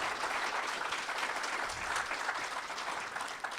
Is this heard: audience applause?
yes